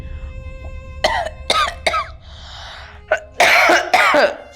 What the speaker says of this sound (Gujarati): ફટાફટ પાણી પી લો, ઉધરસ આવે છે તમને